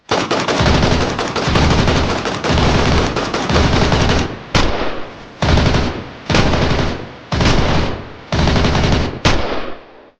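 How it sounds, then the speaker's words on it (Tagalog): Guns fire repeatedly in rapid automatic bursts, loud and close, with short pauses between roughly seven volleys and no talking. "patuloy pa rin sa pagpapaputok ng baril"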